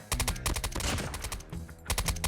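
Rapid bursts of KSP 45 gunfire in Call of Duty: Mobile, sharp close shots fired in quick volleys with a short pause in the middle before another burst.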